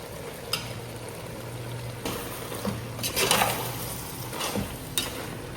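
A metal spoon stirs Tamil Nadu-style chicken uppu curry with a few sprigs of curry leaves in a pan: soft scraping strokes come in several bursts over a low, steady frying sizzle, with no talking.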